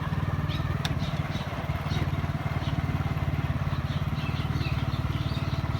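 A motorcycle engine runs steadily nearby with a fast, even low-pitched pulsing throughout, and faint background sounds sit beneath it.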